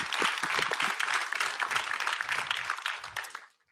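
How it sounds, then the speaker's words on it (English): Applause from the crowd at a live Robinhood event as a guest is called up, dense steady clapping that carries on for several seconds before cutting off abruptly. "Let's give him some applause and get him pumped up to come up here"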